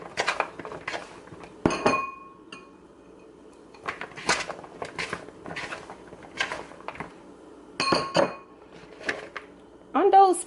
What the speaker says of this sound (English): I have a bowl here, and I'm going to put all my vegetables in this bowl.